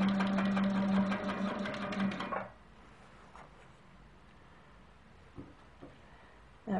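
A sewing machine stitches the outer border of a quilt, its loud steady motor hum and rapid needle rattle running for a couple of seconds, then stopping to leave quiet handling noise and faint clicks.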